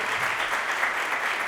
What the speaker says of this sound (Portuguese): quero agradecer o seu Cláudio, o seu Adão, uma salva de palmas para eles, que eles construíram essa história.